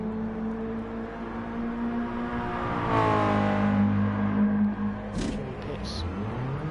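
Engine note of a Mazda Roadster in a racing video game, a steady droning rev that rises and sweeps around the middle before cutting back, with a couple of brief high clicks near the end.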